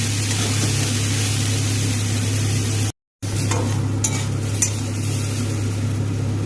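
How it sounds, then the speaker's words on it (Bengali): Kohlrabi pieces frying in hot oil and being stirred, a steady close sizzle over a low hum, with a brief dropout midway and light utensil scrapes afterward. "এই তেলের মধ্যেই তুলে দেব ওলকপিগুলো।"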